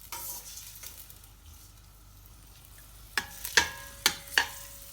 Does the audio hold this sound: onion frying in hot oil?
yes